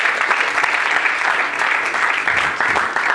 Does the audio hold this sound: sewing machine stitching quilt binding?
no